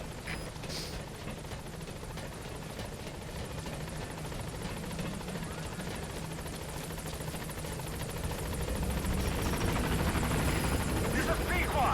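Helicopter arriving at a landing zone in Metal Gear Solid V: The Phantom Pain, a rapid rotor chop that builds in loudness as it nears, with voices speaking over it.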